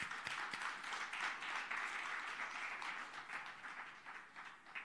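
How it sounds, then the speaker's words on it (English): Steady applause from a crowd at the launch of a public library in Noordgesig, Johannesburg, honouring the community; dense, even clapping sustained throughout, moderately distant and fairly quiet. "So it's important that we at least have a round of applause for the community."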